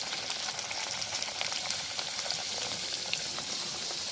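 Rolled flatbreads of mixed wheat flour and refined flour dough frying in hot oil, two at once, with a steady dense sizzle and crackle that holds close and even throughout, no voices.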